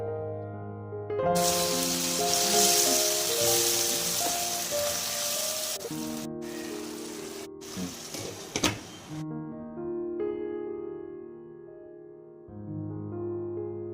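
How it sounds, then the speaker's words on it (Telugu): Water goes into a sizzling pan of dry fish tomato curry spiced with turmeric, chili and salt, giving a loud, steady hissing boil that runs for several seconds under music, then drops off. "1/2 గ్లాస్ వాటర్ యాడ్ చేసుకుందాం."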